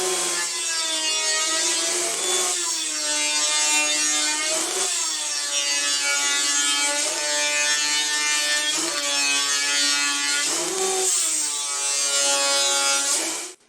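A loud electric planer shaves a wooden board in repeated passes. Each pass rises into a high, harmonic whine, and short dips separate the passes across the whole stretch.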